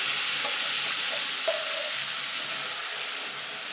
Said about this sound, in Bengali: এবার যে থোরটা বেটে রেখেছিলাম সেটা দিয়ে দেবো